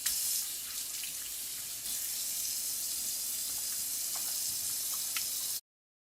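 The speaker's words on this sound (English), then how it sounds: "you have to wash your hands." Water runs steadily from a kitchen tap during handwashing before cooking, a loud continuous hiss that cuts off abruptly near the end, with no talking.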